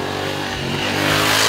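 A loud Honda Africa Twin Adventure Sports 2018 motorcycle engine revving up, rising in pitch and intensity over a brief moment, close and dominant.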